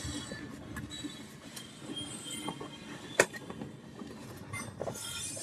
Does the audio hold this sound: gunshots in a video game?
no